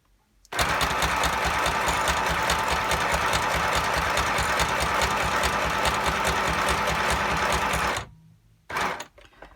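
A hardy, noisy sewing machine stitches through several layers of a junk journal, running in one loud, fast, even burst for about seven seconds, stopping abruptly, then giving a brief final run.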